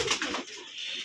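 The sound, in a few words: pigeon cooing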